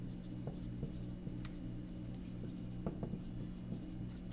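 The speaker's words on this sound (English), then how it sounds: "So I'm going to write that down." A pen scratches across paper in quiet, close strokes with small taps between words, soft and intermittent over a low steady room hum.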